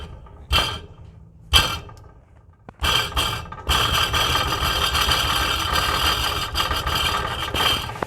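A Nissan 350Z idles through an exhaust test pipe whose inner baffle has failed, giving a loud, steady rumble with a metallic rattle. It starts as a few short bursts and then settles into continuous running close to the microphone.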